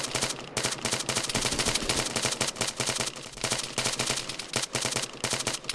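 Sustained automatic gunfire in a hostage rescue playtest of a military shooter game, dense rapid bursts of rifle and machine-gun shots filling the whole stretch with no pauses, loud and close with overlapping distant reports.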